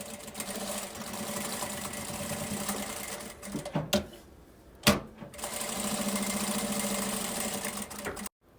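A sewing machine runs steadily while stitching a children's 3D backpack, its close, even hum broken by a short pause in the middle before it resumes at full speed.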